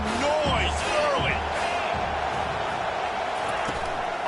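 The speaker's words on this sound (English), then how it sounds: "This crowd bringing the energy and noise early." Stadium crowd noise in the College Football 25 video game: a constant dense roar of fans with scattered whoops and cheers, under an announcer's voice talking over it.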